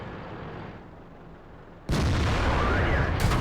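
A tank shell strikes a tank in the World of Tanks video game, a sudden loud boom after a quieter rumbling stretch, followed by sustained harsh roaring noise.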